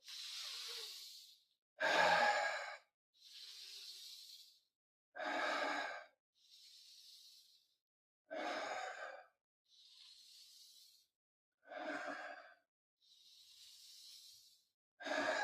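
Slow deep breaths during a guided breathing meditation: long airy inhales alternating with fuller, louder exhales, about eight breaths evenly spaced with silent gaps, close and quiet with no talking.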